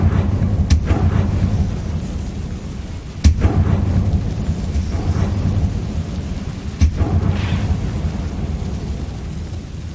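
A fire spell exploding in the video game Hogwarts Legacy, heard as several sharp, loud blasts with rumbling tails over a constant low roar. No one speaks.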